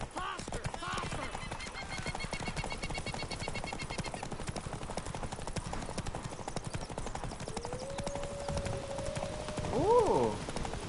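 Horses gallop in a race in the video game The Witcher 3: Wild Hunt, with rapid, continuous clip-clop hoofbeats throughout and a loud whinny rising near the end.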